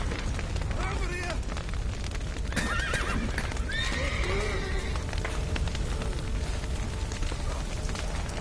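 Horses in the Witcher 3 video game neigh and whinny several times over clip-clopping hooves, with a busy background of fire and commotion and voices speaking through it.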